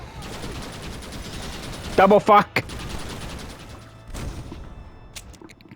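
A mounted cannon fires in the video game Red Dead Redemption, with a couple of loud, rapid bursts close together followed by another shorter volley, over game ambience, while someone talks briefly.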